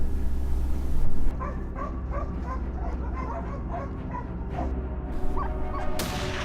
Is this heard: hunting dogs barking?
yes